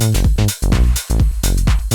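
An electronic drum beat with punchy kicks and snappy hats, the clap carrying a lush reverb tail, playing alone at a steady loud groove.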